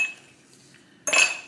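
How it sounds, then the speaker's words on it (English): About three ice cubes drop into a glass for iced coffee in a home kitchen, making a single quick bright clatter of clinks after a quiet pause, close and crisp. "add about 3 ice cubes"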